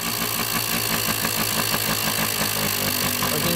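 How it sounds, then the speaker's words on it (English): A Kawasaki KD80 motorcycle engine in need of adjustment runs at idle, a close, loud, steady putter with an even rapid rhythm and no voices. "It's a little loud, the motor."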